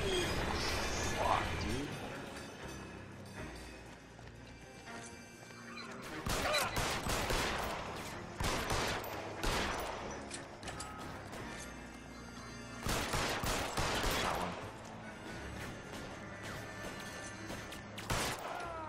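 Gunfire in L.A. Noire comes as clusters of sharp, loud shots and crashing impacts in several bursts over a busy game soundscape, with someone talking in between.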